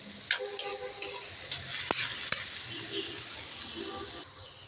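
Pechay stems sauté in a pan as a spatula stirs them, producing a quiet sizzle with a handful of sharp clinks and scrapes against the pan, close up and free of speech.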